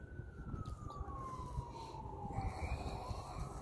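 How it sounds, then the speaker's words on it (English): A siren wails in the distance in Bakersfield, its pitch sliding slowly downward beneath steady traffic rumble. "Hear the sirens in the background."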